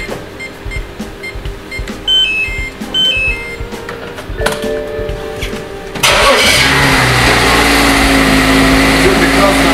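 A BMW X6 fitted with an anti-theft immobilizer sounds a few electronic beeps, then at about six seconds the engine cranks and catches, holding a loud steady revving idle up close.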